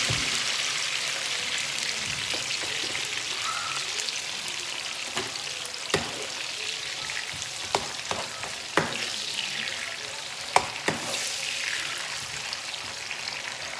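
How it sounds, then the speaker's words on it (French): Oil with ginger and salt frying in a small pan, a steady crackling sizzle throughout with scattered sharp pops and spatters, close and moderately loud, no talking. "on va mélanger tout ça dans notre petite poêle qui est là"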